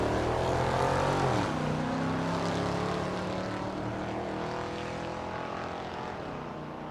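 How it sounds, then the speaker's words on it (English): Side-by-side drag race at Thunder Valley in Noble, Oklahoma, with naturally aspirated small-block and big-block cars: a loud, roaring engine drone that peaks at the start, then fades steadily as the cars pull away. "Good little side-by-side drag race."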